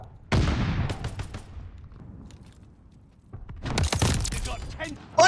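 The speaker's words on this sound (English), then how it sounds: "Oh god, that's a grenade, grenade" In Call of Duty Vanguard, a grenade blast hits up close, followed after a lull by rapid bursts of gunfire and sharp cracks, with talk and shouting mixed in.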